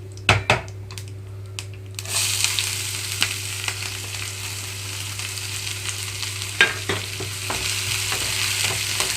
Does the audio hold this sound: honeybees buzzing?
no